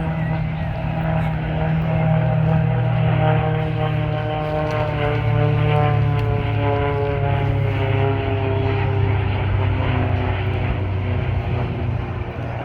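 Large propeller transport plane, Fat Albert, passing at the 2023 MCAS Beaufort airshow: a loud, steady multi-engine propeller drone with a shifting pitched hum that slowly bends as it goes by, while spectators chatter excitedly over it.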